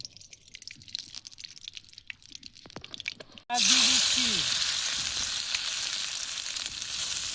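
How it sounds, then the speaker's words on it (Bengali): Chopped carrot, green chilli, onion and capsicum sizzle loudly in hot oil as they are stirred in a pan for chicken roll filling, a steady frying hiss that bursts in suddenly after quieter kitchen clatter. "গাজর, কাঁচা লঙ্কা, পেঁয়াজ, ক্যাপসিকাম দিয়ে এগুলোকে আমরা ভালোভাবে নেড়ে নিচ্ছি"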